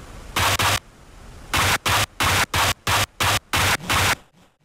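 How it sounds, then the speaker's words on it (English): Video game footsteps in a corrupted Pokémon game: a rapid series of harsh, crunching noise bursts in quick rhythm, two then seven more, like heavy footsteps on gravel, loud and close. "I think that's the sound of my footsteps."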